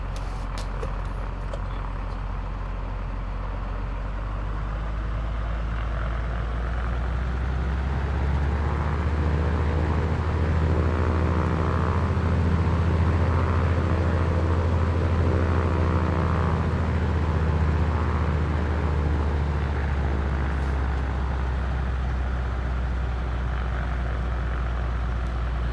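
Steady low jet engine rumble with a soft whine from an airliner taxiing toward a runway in Microsoft Flight Simulator 2024, a continuous drone that swells slightly midway, with no talk.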